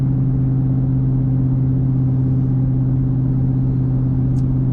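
A 2000 Ford SVT Mustang Cobra R engine pulls under acceleration, a loud, steady, deep drone heard close and continuous with no one talking.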